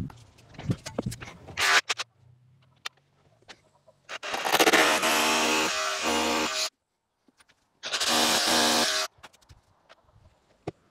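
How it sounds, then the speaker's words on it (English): A rotary hammer drill (perforator) bores into a wall in two sustained loud bursts of roughly two and a half and one and a half seconds, separated by silence, after scattered clicks and handling knocks at the start. "remember to lubricate your drill bits before you use it with perforator"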